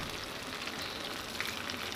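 Tofu fries in hot oil with a steady, dense crackling sizzle, close and even throughout the short stretch, with no talking.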